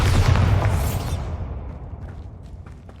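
A booming blast from the Bombarda spell in the Hogwarts Legacy video game, one loud explosion that fades into a long rumbling tail with faint crackles.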